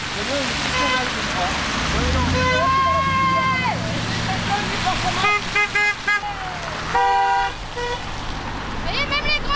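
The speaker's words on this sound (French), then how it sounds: "Vous voyez, même les grosses voitures klaxonnent" Car horns honk repeatedly on a French street, several tooting blasts in bursts, some long and some short, rising over steady traffic rumble while a person talks nearby.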